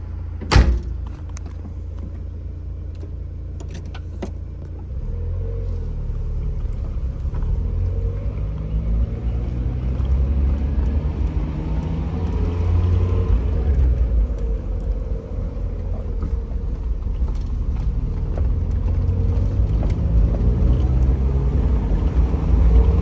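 A Mazda Eunos Roadster door thuds shut with a sharp knock, then the small sports car pulls away and cruises with a continuous low engine and road rumble that swells slightly as it drives on.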